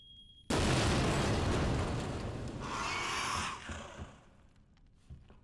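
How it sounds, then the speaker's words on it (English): C4 charge detonating in the Resident Evil 2 remake, a sudden loud blast followed by several seconds of rumbling roar and crackling debris that gradually fades. "That looked like a lot of C4 for a very small explosion."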